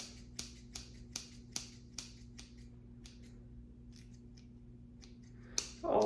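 Scissors snip into hair with the points, a series of sharp, crisp clicks at a steady pace, close and clear over a quiet background hum, with a louder rustle at the end.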